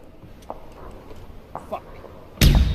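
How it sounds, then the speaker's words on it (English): Flashbang grenade detonating in the PUBG battle royale game, a sudden loud bang near the end after a few faint thumps and footsteps, with players talking around it. "I'm gonna throw a flashbang"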